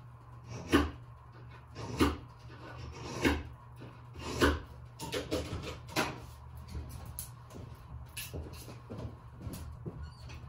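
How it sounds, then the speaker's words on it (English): A knife is sharpened in a fur shop, with a series of rhythmic rasping strokes, about one per second and close up, that fade into softer, quicker rubbing toward the end, with no talking. "we'll sharpen our knife"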